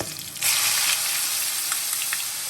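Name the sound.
onion and ginger paste sizzling in hot oil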